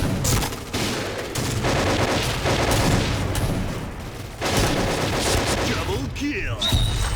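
Sustained AK-12 rifle fire in the Point Blank shooter game, dense rattling bursts running almost continuously, loud and close, with a brief lull midway and scattered impact noises near the end.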